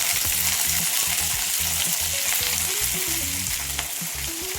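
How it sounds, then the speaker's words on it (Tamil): Curry leaves sauté with onion and garlic in a hot pan for curry leaf chutney, giving a steady, loud, close sizzle. Stirring scrapes and low clatter run through it, and no one speaks. "இப்போ ஒரு கைப்பிடி அளவுக்கு சுத்தம் பண்ணி கழுவி வச்சுருக்க கருவேப்பிலையை சேர்த்துக்கலாம்."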